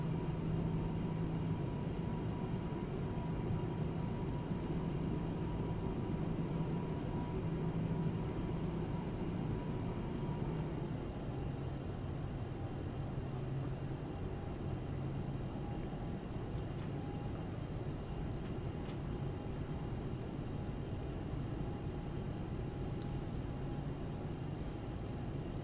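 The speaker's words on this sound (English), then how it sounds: "our engines are full thrust right now" Engines of a Boeing 747-8F freighter at full thrust in the X-Plane 11 flight simulator, a steady unbroken roar with a faint tonal whine on top, holding even for the whole stretch.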